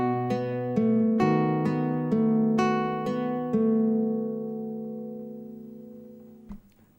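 Classical guitar played with rest strokes, picking a measure of the Spanish 'Romance': about eight clear plucked notes in a steady arpeggio rhythm over ringing bass, close and solo, letting the last chord ring out and fade.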